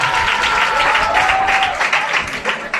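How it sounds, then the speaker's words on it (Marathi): A college cultural association inauguration erupts in sustained audience applause, a dense, steady wash of clapping hands with a faint voice briefly audible beneath it. "टाळ्या वाजवा, टाळ्या वाजवा"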